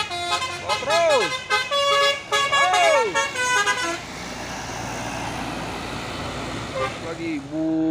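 A Mercedes-Benz bus of the Batu Palas line passes on the road, sounding two long tonal horn blasts with a wavering pitch, then a rushing drive-by roar fading into steady traffic noise. Someone talks over it.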